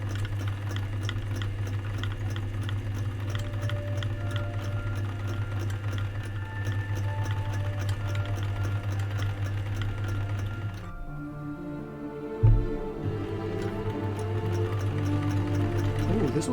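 A sewing machine stitching fabric for a pirate hat, running in a steady fast mechanical whir with rapid needle ticking, then stopping briefly with a clunk before starting up again, close and continuous.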